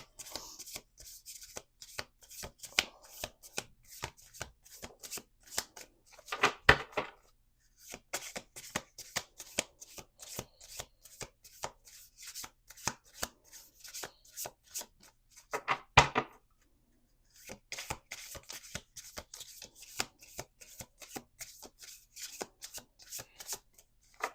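Playing cards riffle and snap repeatedly in quick, close bursts, with two louder bridging cascades and brief pauses between shuffles.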